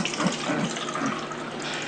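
Water is poured through rocks to draw minerals out, a steady rushing splash filling close by for the whole stretch without any talk.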